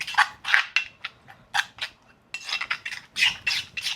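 A spoon mixes two spoonfuls of ketchup into a paste in a bowl, making repeated scraping and clinking strokes at close range with short pauses between them and no talking.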